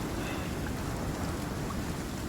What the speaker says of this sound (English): It's just a little bit of rain.